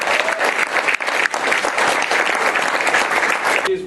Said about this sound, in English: So why don't we give him a round of applause.